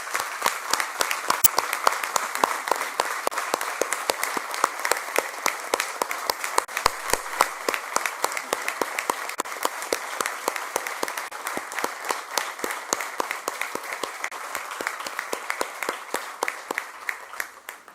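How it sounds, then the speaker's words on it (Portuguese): An audience at a formal municipal ceremony in Esposende applauds Dr. Joaquim Carvalho. The clapping is dense and sustained, with many hands beating in an even, continuous roar that carries on for a long stretch before it starts to thin at the end. "Peço uma grande salva de palmas para o Dr."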